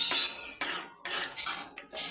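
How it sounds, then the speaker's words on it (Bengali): Chopped garlic, ginger and chilli sizzle in hot oil left from frying chicken pakoras, a bright crackling hiss that surges in bursts with brief quiet gaps between them. "এই তেলের মধ্যে বন্ধুরা আমি রসুন কুচি, আদা কুচি আর লঙ্কা কুচি"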